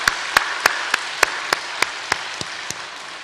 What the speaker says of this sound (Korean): 박수 한번 쳐드리겠습니다